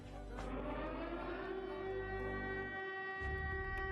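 An air raid siren sounds during wartime shelling alerts, a loud sustained wailing tone that holds steady with strong harmonics and then shifts lower near the end, with no talk over it.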